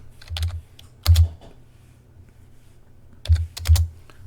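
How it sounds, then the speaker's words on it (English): Close-up keyboard typing in short bursts of rapid clicks, separated by quiet pauses, with no talking. "I'm typing 0, by the way."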